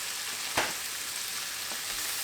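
Bay leaves, allspice and other spices fry in hot oil in a pan with a steady close sizzle and one brief stirring clatter.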